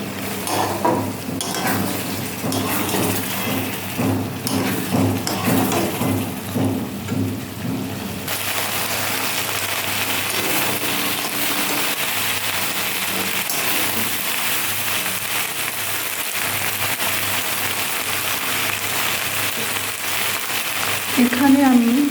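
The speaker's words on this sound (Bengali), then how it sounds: "এখানে আমি ভেন্ডি ভাজছি।" Okra sizzles loudly in hot oil with chilli, panch phoron, salt and turmeric. The frying is a dense, continuous crackle, and its texture shifts partway through.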